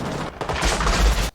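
Gunfire from the war film Full Metal Jacket, a short burst of rapid, loud shots blending into a booming blast, brief and dense.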